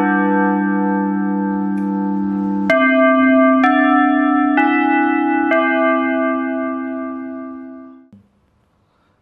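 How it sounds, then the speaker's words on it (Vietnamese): A timer-triggered alarm chime plays from a TOA EV-20R amplifier through a loudspeaker: a sustained, bell-like tone steps through several pitches in sequence, then cuts off abruptly, leaving near silence. "Vậy là chuông báo đã kêu."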